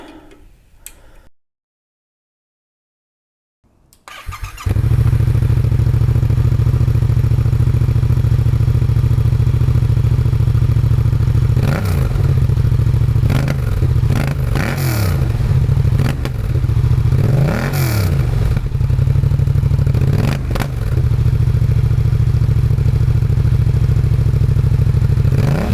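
Yamaha XSR700 motorcycle with a new aftermarket exhaust, starting after a brief quiet stretch and then idling loudly with a steady deep rumble, broken by several sharp blips of revving.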